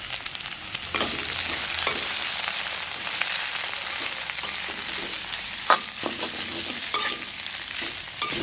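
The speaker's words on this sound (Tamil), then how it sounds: "இது கொஞ்சம் வதங்கட்டும். இதுவும் பொன்னிறமாக வரட்டும்." Green chilies and curry leaves sauté in hot oil over a high flame for a Jaffna-style crab curry, giving a steady, dense sizzle with occasional stirring scrapes and no talk.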